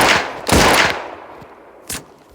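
Weapon fire in the Melon Sandbox video game: two loud, sharp bursts of gunfire close up, the first longer and rattling, the second short, each followed by a fading tail.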